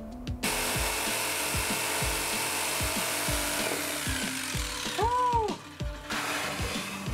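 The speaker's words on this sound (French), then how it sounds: "J'ai la scie sauteuse, genre 15 cm de mon oreille." A jigsaw buzzes about 15 cm from the ear with a fast, steady rasping stroke as it cuts through wood, with a brief pitch wobble near the end.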